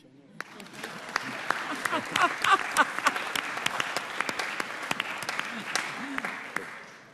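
Audience applause at a Father's Day forum on returning citizens from prison: a sustained, steady crowd clapping that swells and holds for several seconds, with a few voices mixed in the room.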